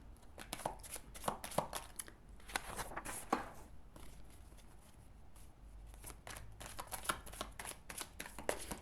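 Petit Lenormand cards are shuffled by hand in a series of soft, crisp riffling bursts and flicks, quiet and close, with short pauses between rounds.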